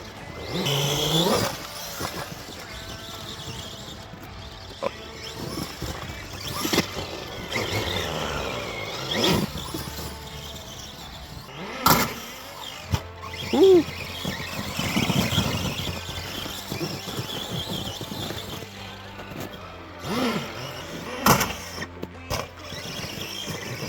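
A Traxxas Stampede 4x4 VXL RC car whines and squeals as it drives, its electric motor surging and dropping in bursts, with sharp bangs and skids over a rough outdoor background.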